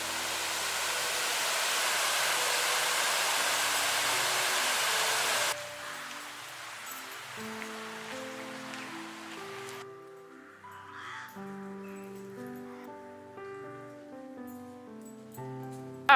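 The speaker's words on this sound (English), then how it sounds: "That's a really pretty waterfall" Waterfall in Holywell Dene, Northumberland: a steady, full rushing wash of falling water fills the first five seconds, then cuts away to music with faint water noise beneath.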